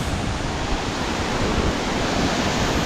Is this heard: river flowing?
yes